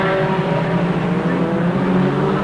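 Formula Ford 2000 race car engine at Mondello Park during a 1982 European championship race, a steady, loud droning roar with sustained engine tones and no clear pass-by.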